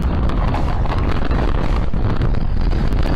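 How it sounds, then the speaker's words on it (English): A dense, loud, steady roar of wind gusts and pelting hail in an Italian port, a continuous broadband rush with no voices. "it's a massive hailstorm with wind gusts of up to 100 kilometers per hour"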